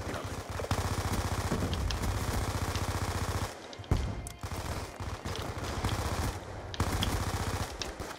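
Rapid automatic fire from the MP7 submachine gun in the Black Ops 2 shooter game, close and loud, running in dense bursts with a couple of brief pauses.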